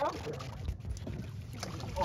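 Steady engine drone and rushing water beneath a motorboat underway between Negros and Cebu, with faint wind and scattered voices in the background.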